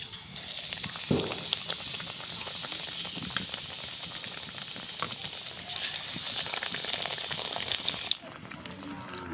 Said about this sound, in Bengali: এবার কুমড়ার বেগুনিটা ভেজে নিচ্ছি।